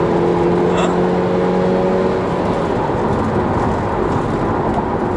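A 2010 Subaru Impreza boxer engine with a four-speed gearbox revs and pulls hard under acceleration, a steady loud droning roar with a rising whine in the first couple of seconds.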